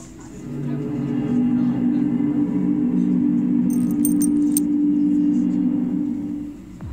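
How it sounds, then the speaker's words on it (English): A simulated RMS Titanic striking an iceberg: a loud, sustained low grinding scrape with a droning screech that swells and fades over several seconds, with a brief metallic rattle midway. "whenever we first heard the iceberg hit and all that screeching"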